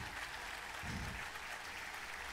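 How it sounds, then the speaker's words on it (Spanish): An audience at a tango festival applauds, a dense steady wash of clapping heard from within the crowd, with no talk over it. "Fuerte ese aplauso."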